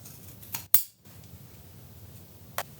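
Scissors snip the fabric corners of a tote bag lining in a few crisp, close cuts, one sharp and loud, spread over quiet room tone.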